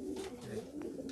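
Lahori Shirazi pigeons, black and red, at a pigeon farm, giving a brief soft low coo at close range, quiet and alone.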